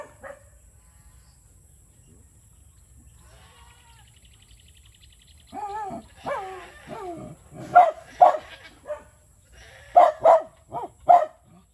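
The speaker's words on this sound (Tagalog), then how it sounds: "kaya pala ngawa na ngawa itong kambing" Several loud goat bleats close by, in a repeated series with short gaps, after a stretch of near silence.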